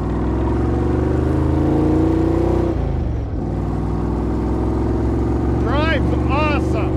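A 1977 Jeep CJ-5 with a bikini top is heard on a test drive, its engine droning steadily and shifting pitch as it changes speed, with a voice talking over it.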